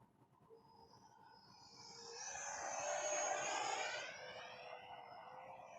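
An Arrows T-33 RC airplane, a bank-and-yank model, makes a whining jet-like engine sound as it passes. The sound rises to a close, loud peak, then fades with a Doppler sweep.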